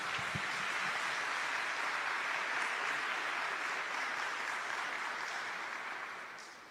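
An audience applauds at a Catholic talk on Marian consecration, a dense, sustained wash of clapping that holds steady for several seconds before tapering off at the end.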